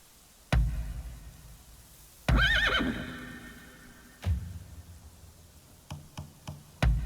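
A horse in the video game Rise of the Ronin gives a clear whinny amid sharp knocks and hoof clops, with sparse thuds spaced through a quiet background.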